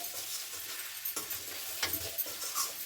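Chicken fry crackling and sizzling in a pan, with a few distinct stirring scrapes over a steady close hiss; no talking.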